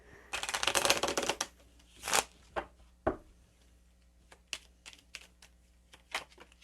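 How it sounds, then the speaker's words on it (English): Tarot cards being shuffled by hand in a quiet room, with a dense riffling burst followed by a series of separate soft flicks and slaps of card stock, faint and close, no voices. "I'm going to pull on the shadow cards here to see what we're looking at"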